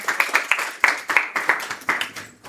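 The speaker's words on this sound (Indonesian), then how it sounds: "Tepuk tangan, tepuk tangan." Rhythmic clapping from a small group at a student project presentation, steady chant-like beats about every third of a second, fairly close and moderately loud.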